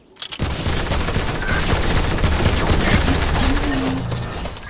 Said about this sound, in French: J'ai fait un kill avec le pistolet du bled.